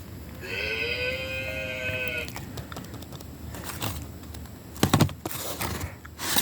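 A cow moos once in a long, drawn-out low call, followed by scattered clicks and clatter against steady background noise.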